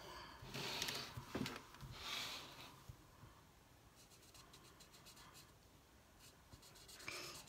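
Alcohol markers scratch and rub across paper while a mandala is coloured in, a sheet laid underneath, coming in soft bursts of strokes with quiet pauses between, close and faint.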